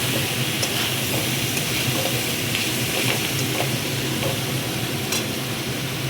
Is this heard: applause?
no